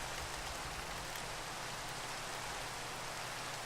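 Steady, dense rain hisses evenly in Minecraft, a constant wash of falling drops with no breaks or other sounds.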